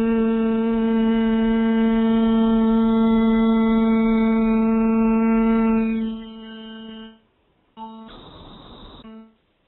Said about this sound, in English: then we're going to hum a note, and we're going to move the tongue up and down.